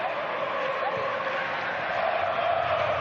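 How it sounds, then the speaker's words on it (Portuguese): Botafogo fans filling a stadium with steady cheering and chanting at a FIFA Club World Cup match, a broad far-off crowd roar holding level throughout with a faint sung tone on top. "A torcida do Botafogo que está sendo ouvida aqui"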